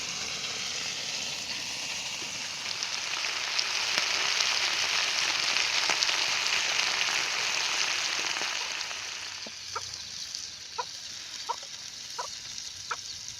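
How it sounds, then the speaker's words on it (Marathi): Mandeli fish shallow-frying in a tava, one batch of several: a steady, bright sizzle that swells midway, then thins out as scattered sharp pops and crackles take over near the end. No one speaks. "एका तव्यात काय बसणारच नाही परत एकदा तळायला लागणार आहे"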